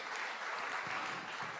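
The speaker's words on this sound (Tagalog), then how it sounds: "Lahat pumalakpak sa ating mahal na Panginoon." A church congregation claps in praise during a preaching service, producing a faint, continuous wash of many hands applauding at a distance.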